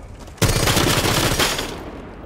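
Rapid automatic gunfire from a Rainbow Six Siege match, a loud sustained burst of closely spaced shots lasting about a second and a half before trailing off.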